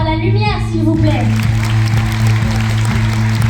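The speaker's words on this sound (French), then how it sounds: "Est-ce que vous pouvez applaudir Clément à la lumière s'il vous plaît" A concert audience applauds after a performance, steady clapping that starts as a sung note fades and continues evenly to the end, with a low sustained tone underneath.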